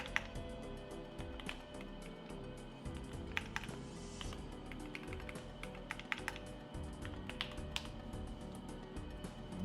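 Someone types on a computer keyboard while coding: rapid, uneven clicking keystrokes, close and steady throughout, with occasional sharper taps.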